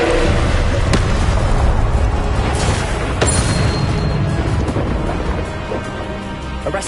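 An Incendio fire spell is cast in Hogwarts Legacy amid a loud, thundering barrage of booming blasts and crackling magic impacts, with sharp strikes rising out of a constant roar.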